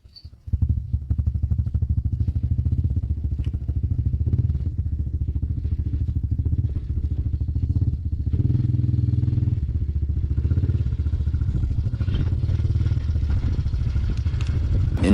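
Pit bike motorcycles racing in a Circo Nitro pit bike championship round, engines droning and revving continuously at mid distance with changing pitch as the bikes pass.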